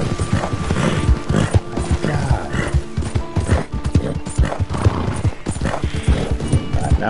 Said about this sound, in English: now just run, horse